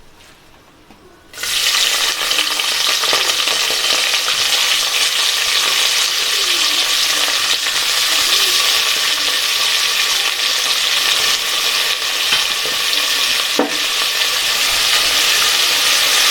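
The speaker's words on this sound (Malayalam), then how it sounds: "ചെറുതായിട്ടൊന്ന് വഴന്നു വന്നതിന് ശേഷം നമുക്ക് ഇതിലേക്ക് 2 ചെറിയ സവോള ചേർത്ത് കൊടുക്കാം" Thinly sliced onions, two small ones, frying in a pan as the base for tomato rice, a steady broadband sizzle that starts abruptly after a quiet second and runs on, loud and close, with a brief clink near the end.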